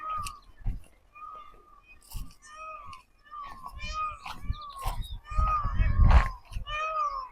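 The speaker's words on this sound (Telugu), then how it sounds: "అరుపు అయితే వినిపిస్తుంది, నెమలి అరుపు" A peacock in forest near a Buddhist site in Madanapalle gives repeated loud, nasal, mewing calls in short bursts, mixed with nearby rustling and footsteps on the trail.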